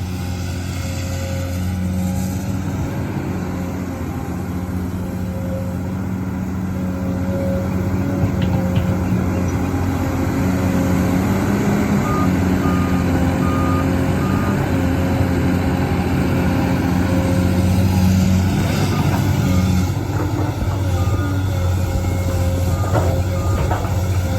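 A heavy excavator diesel engine runs steadily at close range, a deep droning rumble with a faint whine, holding a constant pitch and growing slightly louder.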